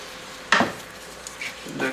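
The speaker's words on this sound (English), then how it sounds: "put the cover on." A lid is set onto a cooking pot of beef giuvech, giving one clear metallic clink up close, followed by a couple of softer, fainter knocks and scrapes as it settles.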